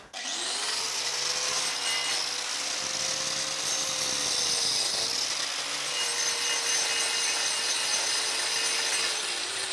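A power sander whines continuously, grinding thick horse hoof horn with a steady, abrasive high-pitched rasp that barely changes throughout.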